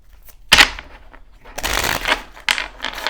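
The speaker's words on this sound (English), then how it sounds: "One more shuffle." Tarot cards being shuffled up close, a sharp riffle snap followed by a longer rustling shuffle and another quick flurry of cards, loud and alone with no voices.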